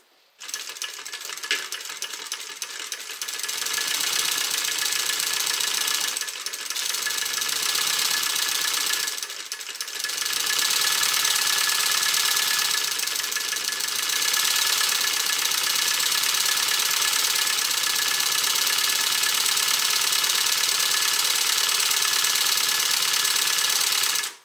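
A hand-cranked sewing machine stitching around the edge of a hip bag, a steady whirring mechanical rattle that runs continuously after a brief start, pausing briefly a few times before carrying on.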